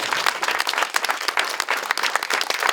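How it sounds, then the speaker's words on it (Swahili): An audience at a Dagoretti Primary School special needs classroom handover applauds the CEO, with a thick, sustained patter of many hands clapping evenly from start to finish. "Wazazi mnaniangusha, tumpigie CEO makofi."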